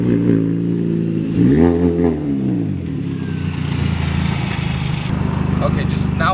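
An R53 Mini Cooper S engine revs up and climbs through a take-off, its pitch rising, dipping at a shift, then droning steadily, loud and close with a rattly undertone.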